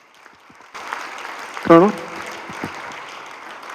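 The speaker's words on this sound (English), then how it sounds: "Give this man a round of applause." Scattered audience applause at a Southfield community forum on synthetic drugs starts abruptly and stays moderate and steady, while someone briefly speaks over it midway.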